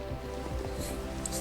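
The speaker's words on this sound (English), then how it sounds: "stare at the rain coming through my house with the opening" Minecraft rain falling on and through a player-built house, a soft, even patter with scattered small drips and splashes, faint and continuous with no voices.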